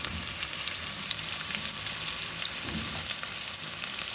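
Garlic and ginger pieces frying in a pan, a continuous bright sizzle dotted with small pops and crackles, steady and fairly close, with no talking.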